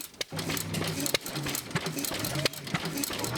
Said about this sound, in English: You can't miss the sound of the antique tractors and motor displays at the State Fair of Virginia.